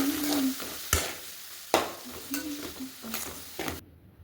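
Chopped tomatoes go into a hot pan of spiced chickpea greens. The oil hisses and sizzles throughout, broken by several sharp spoon scrapes and knocks against the pan as the mixture is stirred.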